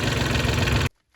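A tractor engine idles in a farm field, a steady mid-pitched rumble with a rhythmic chug that runs close and loud, then cuts off abruptly into near silence.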